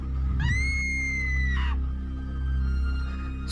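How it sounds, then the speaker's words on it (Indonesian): A girl's loud, drawn-out scream used as a sound effect in a spoken horror story set at a school camp on a mountain, rising sharply and then holding, with a second shorter cry after it, over a low droning background. "suara teriakan Leni begitu keras hingga semua siswa terbangun dari tidurnya."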